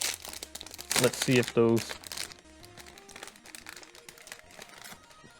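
A plastic bag is torn open and crinkled up close, with bursts of loud rustling around the one-second mark that fade into lighter handling while a person talks.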